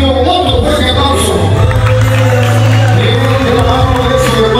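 At a quinceañera party, a crowd cheers and claps as the birthday girl makes her entrance. The noise is loud and continuous, with whoops and shouts over booming background music.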